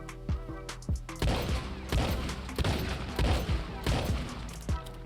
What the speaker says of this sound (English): Now here's the semi-auto shotgun.